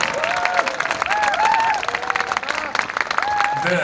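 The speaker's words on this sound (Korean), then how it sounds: "김영민 국회의원에게 뜨거운 박수 보내시면바사겠습니다" An audience at a congressman's legislative report meeting applauds warmly, with continuous clapping mixed with cheers and raised voices that rise and fall over a few seconds.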